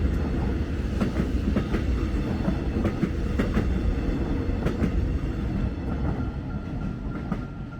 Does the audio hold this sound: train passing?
yes